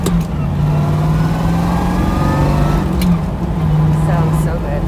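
A 1969 Chevrolet Camaro Z28 classic muscle car pulls away onto the street, its engine a loud, steady, close rumble with a low droning tone throughout and small shifts in pitch.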